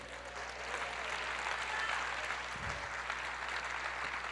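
A church congregation applauding, a steady, muffled wash of clapping heard from a distance, faint and even throughout with a low hum beneath.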